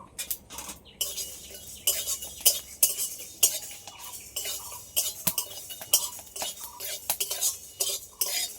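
Whole cumin, black peppercorns and fennel seeds dry-roasted in a pan for mango pickle, stirred with a metal utensil that scrapes and clinks against the pan in steady, busy strokes, close and fairly loud.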